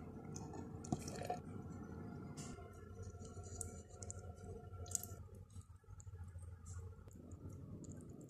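Evaporated milk, about 300 ml, is poured into a cup of ice and two mango pieces for a mango shake, giving soft continuous liquid trickling and dripping with faint clicks throughout.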